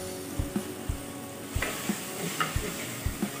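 Chopped tomatoes with a handful of coriander and mint sautéing for mushroom biryani, a steady sizzle broken by regular scraping stirs of the spoon against the pan, close and clear with no voices.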